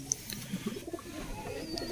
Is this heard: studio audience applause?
no